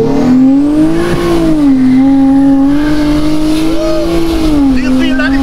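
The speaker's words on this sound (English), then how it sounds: "Do you feel that it's just turning the tire?" A highly modified Toyota Mark X spins its tire under acceleration, with a loud, steady engine drone and a sustained whine that rises and falls slightly. A voice talks over the noise.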